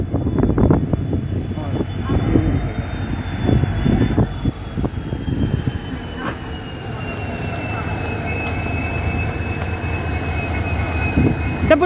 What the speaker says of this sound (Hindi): हमारी गाइस ट्रेन आ चुकी है जो हमें बरेली सिटी पहुंचाएगी